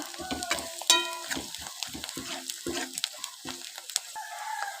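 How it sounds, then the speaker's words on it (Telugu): Ivy gourd frying in oil in a pan while being stirred, with clattering spoon strokes and sizzle, plus tonal bird-like calls in the background. "ఇలా కలుపుతూ ఫ్రై చేసుకుంటూ ఉండాలి."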